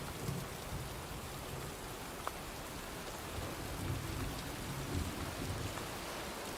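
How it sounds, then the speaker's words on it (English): Steady heavy rain from a thunderstorm in the video game Heavy Rain pours continuously, with low rumbles of thunder rolling underneath and no voices. "looks like a storm's coming"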